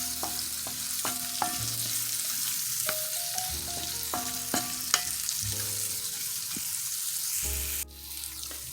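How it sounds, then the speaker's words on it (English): Food sautéing in a pan gives a steady sizzle and fry, broken by repeated clatters of stirring and scraping against the pan. No one speaks. "we're going to go ahead and saute them for a couple minutes"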